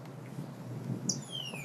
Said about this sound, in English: That's the song of the northern cardinal.